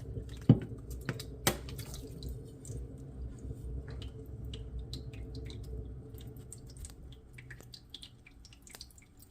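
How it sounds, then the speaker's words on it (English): Soft irregular drips and trickles of water draining from the bottom of a plant pot, a few sharper taps early on, over a quiet low background with no voices. "That's the water draining on the bottom."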